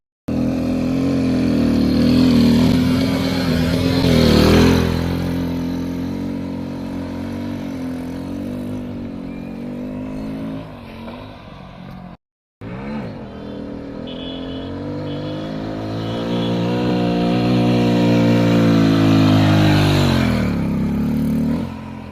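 A Hero Splendor motorcycle engine revs during wheelie practice, rising and falling in long swells, loud and close, dropping briefly to a near cutoff before building again.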